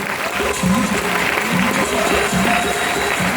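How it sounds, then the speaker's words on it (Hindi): Audience applause at a speech event in India, dense clapping that stays loud through the short stretch with voices mixed in. "सुनील यादव सर, चमन सर, राहुल सर और अजय सर, इन सभी के लिए जोरदार शानदार ताली दोस्तों"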